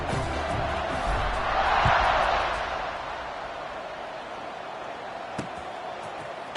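Crowd cheering in a football video game, a broad stadium roar that swells for a couple of seconds and then settles into a steady murmur, with a few faint thuds.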